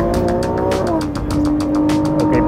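A Ferrari race car engine drones loud and steady as it accelerates, with its pitch rising and shifting gears under a rhythmic pulsing, close and continuous.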